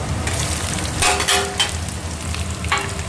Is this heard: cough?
no